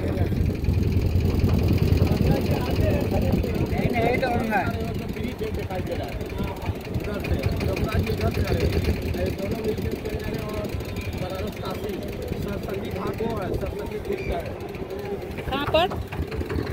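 A motorboat engine chugging steadily on the water at the Prayagraj Sangam, a low continuous rumble heard close throughout, with people talking over it.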